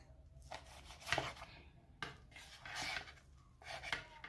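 A knife cuts through a slice of baked cabbage mix on a small plate, producing several soft, close crunchy strokes in a quiet room.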